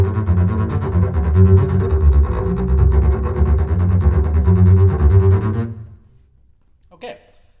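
Double bass playing a bowing exercise from the first movement of Mozart's Symphony No. 40, bowed notes repeated in rapid pairs. A dense, steady low rasp continues for about six seconds, then stops abruptly, leaving a brief soft noise.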